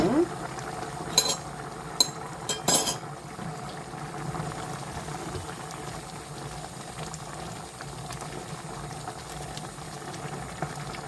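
Potatoes simmering in a covered pot of braising broth for Korean potato jorim, a steady low bubbling that runs continuously through the clip, with a few brief clinks early on and no one talking.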